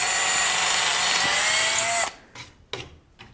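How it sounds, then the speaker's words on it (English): A power drill fitted with a 3/16-inch bit bores into a wooden boat gunwale while building a skin-on-frame deck. A steady, close high whine runs for two seconds, then cuts off into a few brief clattering knocks. "I'm gonna go ahead and just take a 3/16-inch drill bit right here"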